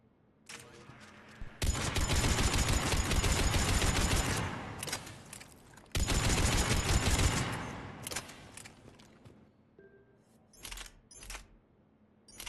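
Geth Pulse Rifle fired in the video game Mass Effect 3, heard as two loud, sustained bursts of rapid fire separated by a short break, then a few shorter scattered shots trailing off.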